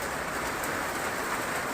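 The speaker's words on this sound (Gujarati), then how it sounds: "બહુ સારો એવો વરસાદ મિત્રો" Steady, dense rain pouring down, a continuous broadband hiss of drops on surfaces with no pauses or voices.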